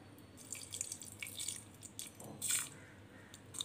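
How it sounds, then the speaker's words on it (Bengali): Water trickles and drips onto ground mustard paste with green chillies and salt, a short run of soft splashing and wet squishing bursts, close and quiet. "একটুখানি জল দিচ্ছি"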